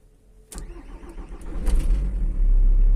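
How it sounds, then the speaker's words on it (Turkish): A car engine is hot-wired by touching two wires together and cranks briefly before catching and settling into a loud, steady running rumble; the car has a hard-starting fault when the engine is hot. "Daha sonra bunları birbirine değdirerek aracı çalıştıracağım."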